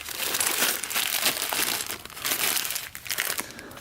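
Crinkly plastic rustling as hands dig through a bag of loose parts for a junkyard Yamaha Blaster, a steady close-up rummage with brief pauses and no talking.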